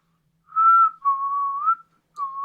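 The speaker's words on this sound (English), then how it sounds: "I'm just going to start whistling." A person whistles while strolling along: three clear, tuneful phrases, the first short, the second long and gliding, then a brief pause before a third begins. The whistle is close and loud, with no talking.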